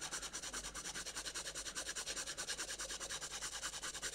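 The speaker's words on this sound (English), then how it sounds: "It's a little bit scratchy on the nib. You can kind of hear that, can't you?" The nib of a Platinum Carbon fountain pen scratches across paper in quick, regular strokes, a steady rhythmic rasp heard close up and fairly quiet, with no voices.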